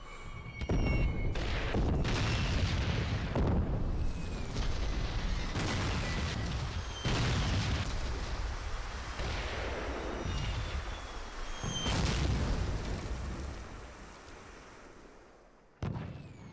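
Artillery barrage in the shooter game Call of Duty: United Offensive, a continuous rumble of booming blasts and overlapping explosions, loud and dense, fading slightly toward the end before one final sharp impact.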